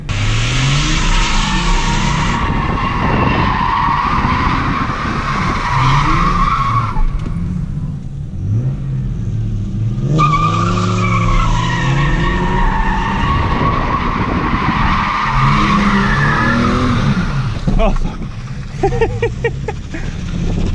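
An AU Ford Falcon does a hard first-gear burnout, its engine revving loudly while the tyres squeal and skid continuously for the whole stretch, with brief dips as the throttle lifts before screaming again.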